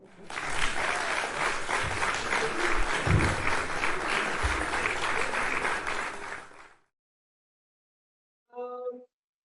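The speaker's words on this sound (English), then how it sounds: "Give me another round of applause." A round of applause at an inaugural university lecture: sustained, full-room clapping for several seconds that ends abruptly, followed after a short silence by a brief spoken voice.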